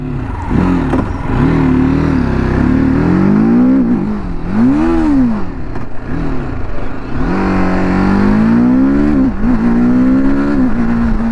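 A TVS Apache RTR 310 motorcycle in sport mode accelerates hard. Its engine rises in loud, close revving sweeps, dipping briefly between gears before climbing again.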